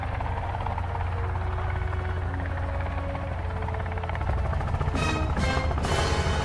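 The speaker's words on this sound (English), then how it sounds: "it looks like we're flying around in a old helicopter here" Steady low rotor drone of an old helicopter in flight in a video game, continuous and fairly loud, with faint tonal hums threaded through and a few brighter bursts near the end.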